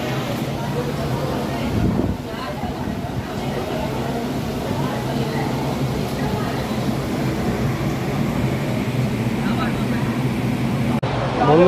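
A Sealdah–Lalgola MEMU train runs along the line, giving a steady low rumble and rattle inside the carriage. The noise is continuous and fairly loud, with no clear talk over it.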